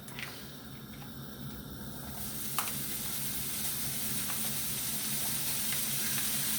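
Bacon lardons sizzle steadily in a hot pan while a meatball dish with cream is prepared, a constant close hiss that grows slightly louder, with one sharp pop partway through and no talking.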